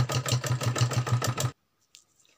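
A sewing machine stitches a suit in fast, even pulses for about a second and a half, then stops, leaving near silence with a faint click or two.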